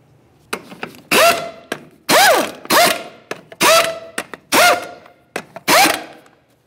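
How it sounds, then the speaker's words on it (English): Five 19mm wheel lug nuts are run down on a Ford Ranger with a power tool: about six loud, close bursts of whirring and rattling impacts, each about half a second long, separated by short clicks and handling noises. "Start on all 5 of your 19mm lug nuts, we'll bottom them out"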